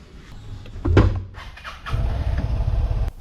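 A motorcycle engine cranks with a brief whir, then catches and settles into a steady, close, low rumbling idle for about a second before cutting off abruptly.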